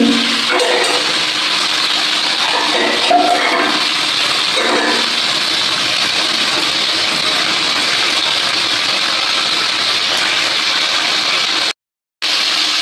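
Prawns frying in hot oil with tempering spices give a steady, loud hiss of sizzling that carries on almost unbroken for the whole stretch, then cuts out briefly near the end.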